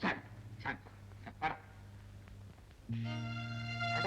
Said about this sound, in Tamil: துப்பறி நாய் வருது